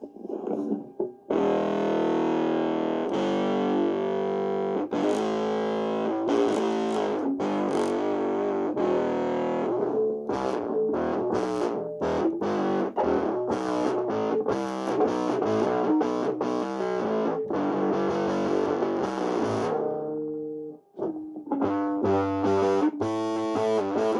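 Bass guitar played through a drive distortion effect over a wireless guitar system, a dense, gritty and loud run of sustained and choppy notes, briefly dropping out before a lighter, cleaner passage of rapid notes at the end.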